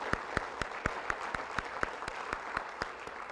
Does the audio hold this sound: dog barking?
no